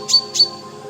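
A voice imitates a bulbul's call with two quick, sharp whistled chirps, close and clear against a faint steady hum.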